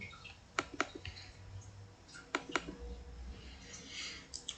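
Mouse double-clicks on a computer while editing a table layout, two quick click pairs near the start and more in the middle, crisp and close against a quiet room hum.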